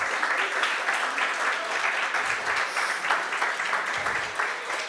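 Audience at a Black History Month event gives steady, loud applause that fills the whole stretch without a break and with no talking over it.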